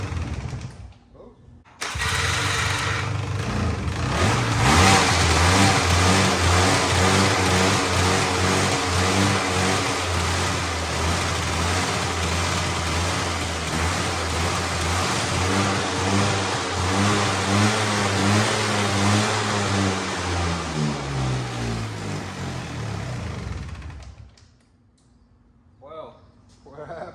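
A Polaris Sport 400 with a previously flooded engine cranks and starts, then revs loudly and steadily close by for about twenty seconds before dropping off and cutting out.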